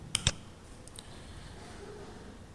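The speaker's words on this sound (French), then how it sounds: "Pour activer le mode édition, il faut cliquer sur ce bouton." Two quick, sharp computer mouse clicks close together near the start while pressing a button in the Moodle course platform, then a faint click and quiet room tone, no speech.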